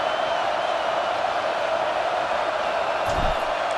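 Stadium crowd noise from EA Sports College Football 26 video game, a steady, loud roar of a large crowd sustained throughout, with a brief low thump near the end.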